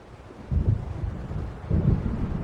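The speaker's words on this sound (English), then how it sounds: "It seems there's a storm coming" Stormy wind gusts with low rolling thunder in Alan Wake Remastered, rising in two swells over a steady dark rumble, no voices.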